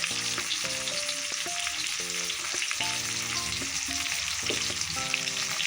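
Ginger garlic paste frying in a pan for mango pachadi, a constant crackling sizzle with music playing over it.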